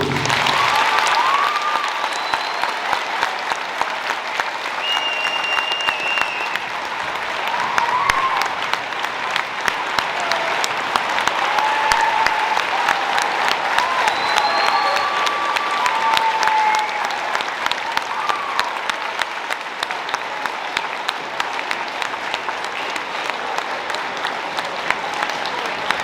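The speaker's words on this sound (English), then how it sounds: "One more round of applause to the heroes among us," Sustained, steady applause from a large audience honoring veterans at a Veterans Day assembly, continuing for nearly half a minute with occasional whoops and whistles rising above it.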